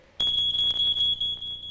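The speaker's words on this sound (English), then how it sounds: "They reach 4 feet before the smoke detector goes off" A smoke detector alarm sounds after a smoldering fire flares into flames, a sudden loud, piercing continuous beep that starts abruptly and holds steady, alone.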